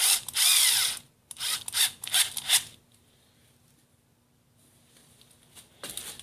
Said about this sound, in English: I've just got a standard 1/8 inch drill bit. I'm just going to put that in my drill there.